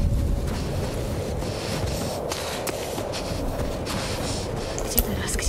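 Blizzard wind in The Last of Us Part I howls and roars steadily throughout, a dense, buffeting rush of snowstorm air with brief gusting swells and no voices on top.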